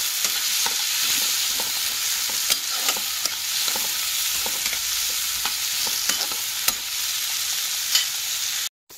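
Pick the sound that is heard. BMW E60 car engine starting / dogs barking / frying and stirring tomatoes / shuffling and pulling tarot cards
frying and stirring tomatoes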